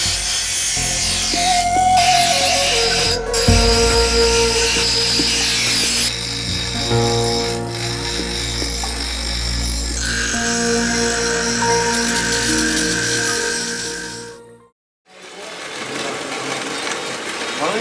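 A machine runs steadily while working a kujang, the traditional Sundanese blade, giving a continuous loud whining hum with shifting pitch that stops briefly near the end and then starts again.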